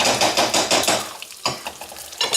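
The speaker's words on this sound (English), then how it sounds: "Okay, so you stir that around." Curry paste being stirred in a hot pan, a spoon scraping in rhythmic strokes over a steady sizzle, loud and close, with a brief pause partway before the stirring resumes.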